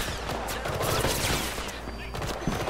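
Gunfire in Mirror's Edge Catalyst, a dense volley of rapid shots crackling steadily throughout, fairly loud under busy game ambience, with faint voices mixed in.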